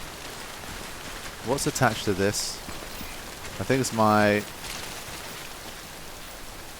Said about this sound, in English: Yeah, it's still letting the rain through.